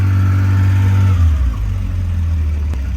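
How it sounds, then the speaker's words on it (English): A Porsche 911's carbureted 3.0-litre SC flat-six engine hums loudly close by, then the pitch drops as the revs fall back toward a rough idle. "It's got a 3-litre SC engine with a carb out."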